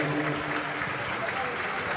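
A crowd at a Jain sermon in Ghatol, Rajasthan, claps in dense, continuous applause with a faint murmur of voices underneath, steady and fairly loud throughout.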